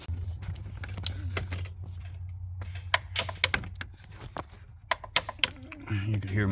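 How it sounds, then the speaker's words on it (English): A torque wrench clicks while tightening a replacement fuel filter cap on a Ram 3500 with the 6.7 diesel, giving several sharp, close clicks in irregular bursts over a low steady hum. "You could hear my torque wrench clicking right there."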